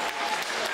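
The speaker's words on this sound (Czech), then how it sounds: "Prosím potlesk" A school farewell audience in an assembly hall clapping, a brief burst of dense, even applause heard alone at moderate distance.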